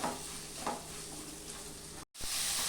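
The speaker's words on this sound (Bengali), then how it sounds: "এখন সব ভালো করে আমি ভেজে নেব" Spices and black pepper fry in oil for a raw banana kofta curry, giving a soft continuous sizzle with light stirring scrapes, briefly cut off and then resuming.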